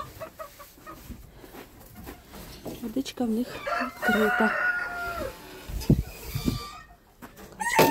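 In a frosty farmyard, bantam chickens cluck and chatter nearby while a rooster crows loudly in the middle, mixed with someone talking and some clattering from chores.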